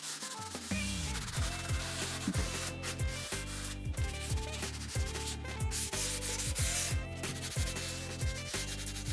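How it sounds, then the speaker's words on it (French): A random orbital sander with a 5 mm orbit, 150 mm pad and variable speed works over undercoat on a wall, giving a loud, continuous whirring drone whose pitch repeatedly dips and recovers. "Ma ponceuse est une ponceuse excentrique,"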